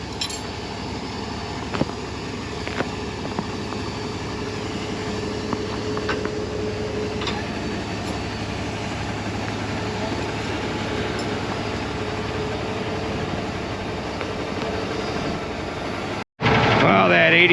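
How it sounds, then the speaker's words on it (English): A John Deere 8400R tractor's engine drones steadily nearby while pulling a truck and a spreader, a continuous low rumble with occasional clanks, holding for about sixteen seconds before a brief cut. "A tractor pulling a truck, pulling in"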